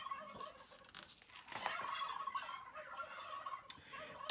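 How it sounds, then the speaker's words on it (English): Turkeys gobbling outdoors in spring, a flock of birds giving repeated warbling gobbles that swell and fade over several seconds at moderate volume, with no talk. "What's that funny gobbling sound?"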